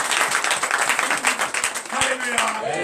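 A church congregation at a night deliverance service in Benin claps and cheers in dense, continuous applause, with a voice calling out over it.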